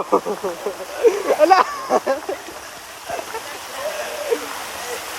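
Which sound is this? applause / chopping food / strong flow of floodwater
strong flow of floodwater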